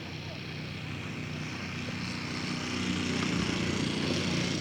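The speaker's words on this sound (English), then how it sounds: "Gil's coming in for his final landing of his second flight today." Radio-controlled scale model airplane on final approach to land at a flying field, a continuous buzzing propeller engine drone held near and fairly loud, with voices around it.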